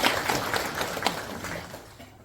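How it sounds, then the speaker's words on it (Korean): Audience applause at a lecture hall, a brief spell of dense, mid-loud clapping from many hands that gradually thins and fades out, no voices. "잘했다고 박수 한번 받을 만해요."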